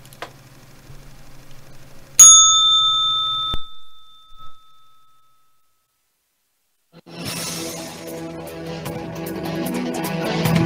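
A single struck bell rings out sharply and decays over a few seconds, followed by a pause and then a busy wash of crowd or floor noise, the opening bell of a trading session.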